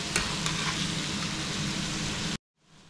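Chopped capsicum sizzles in a pan while pav bhaji cooks, a dense, steady crackle held close for a couple of seconds before it cuts off abruptly into near silence.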